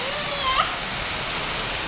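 Steady rain falls in Bhubaneswar, a continuous even hiss of drops with a brief faint squeak partway through and no clear talk.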